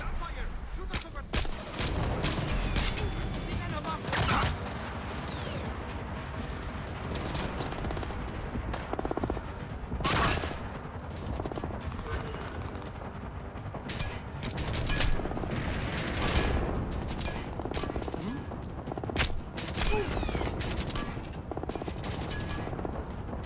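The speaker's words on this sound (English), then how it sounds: "Gunfire! Shoot us over!" Gunfire in the stealth video game Splinter Cell: Blacklist comes as sharp bursts and scattered shots throughout, some clustered in rapid volleys, with a player talking over the action.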